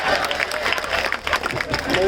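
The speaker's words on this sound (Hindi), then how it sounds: "थक गए हैं आप तालियों में?" Audience applause at a live Hindi comedy poetry show in Sitamarhi, a dense, steady clatter of many hands clapping throughout, close and loud with some crowd noise mixed in.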